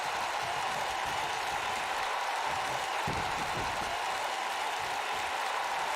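A wrestling arena crowd roars steadily in the WWE 2K19 video game, a continuous wash of cheering and applause with no break.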